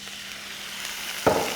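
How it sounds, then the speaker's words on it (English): Water splashes onto hot vegetables in a buttered pan, setting off a sudden loud steaming sizzle that rises out of a softer background frying hiss near the end. "want to hit this with a little bit of water, which is going to create a little bit of steam action."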